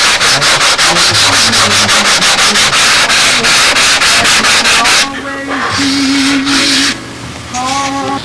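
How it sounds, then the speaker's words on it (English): Rapid, rhythmic back-and-forth strokes of a sanding block on model airplane edges, close and loud, then a slower scraping rub with brief squeaky tones. "just get the final sanding right around all these edges, all around the top"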